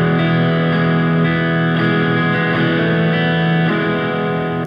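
Distorted electric guitar plays a steady picked pattern of sustained notes, loud and continuous with effects, no voices.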